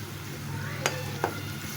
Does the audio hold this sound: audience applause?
no